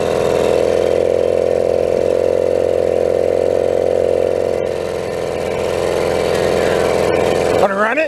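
A tractor engine runs at a steady idle, its loud, even drone filling the whole stretch. A brief clatter sounds near the end.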